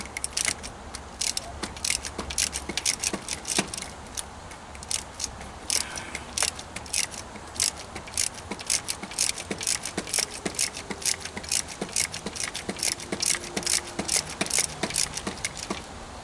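A ratchet with a 13 mm or 1/2 inch deep well socket works loose the temperature sensor on a Jeep Wrangler, making rapid close clicking in steady runs with brief pauses, loud and continuous throughout.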